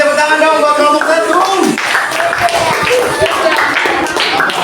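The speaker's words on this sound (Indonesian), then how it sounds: "Kasih tepuk tangan dong buat kelompok 1." Classmates applaud a student group during an Islamic education teaching session, a busy round of clapping heard close and fairly loud over music and a voice speaking.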